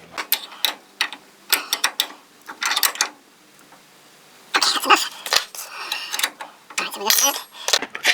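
Bolts being tightened on the front brakes of a Morris Minor: bursts of close ratcheting clicks and metallic clinks in quick runs, separated by short pauses and near-silence.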